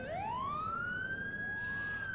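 A police car siren wails in the police mod LCPDFR, a single rising tone that climbs and then holds steady, moderately loud and alone with no talking.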